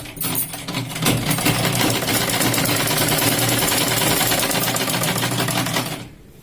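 A sewing machine runs steadily while stitching blouse fabric, its rapid mechanical clatter going continuously for several seconds, close and clear, then stopping abruptly.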